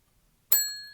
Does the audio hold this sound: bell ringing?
yes